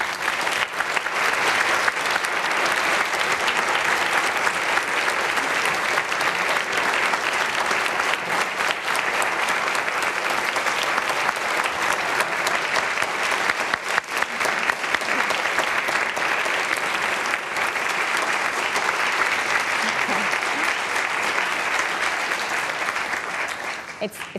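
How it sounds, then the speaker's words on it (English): Sustained, dense audience applause after a speech at a Chief Executive Women event, loud and even clapping from a large crowd lasting over twenty seconds without letting up. "It's not a competition, but that audience applause went for longer than for many people"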